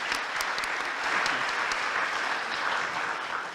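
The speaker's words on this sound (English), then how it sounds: "I appreciate that clapping for us" An audience at a congressional candidates' forum claps steadily, a dense wash of applause from a room full of people lasting a few seconds with no talking over it.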